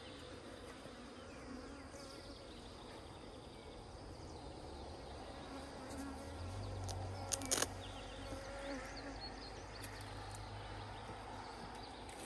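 Honey bees buzzing around an opened hive while collecting sourwood honey, a dense steady drone of many insects, moderately close, with a low engine-like rumble rising midway and a brief clank.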